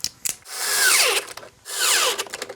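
A power drill drives screws to fasten wire down during solar power distribution wiring: two whining bursts of the motor, each dropping in pitch as the screw seats, with small clicks and handling noises between.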